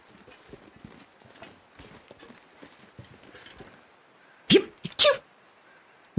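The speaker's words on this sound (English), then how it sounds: "Oh, that was a sneeze." A sharp sneeze rings out in The Long Dark survival game after a stretch of steady, quiet footstep-like clopping, followed by a couple of loud bursts near the end.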